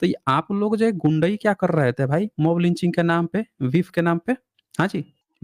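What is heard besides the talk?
None of the usual background noises is heard.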